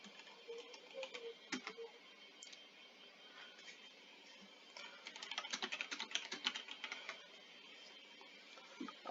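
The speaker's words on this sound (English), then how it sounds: "we have to type the same command again." A command is typed on a computer keyboard, with quiet key clicks in scattered bursts that turn into a denser run of rapid keystrokes partway through, in a quiet room with no talking.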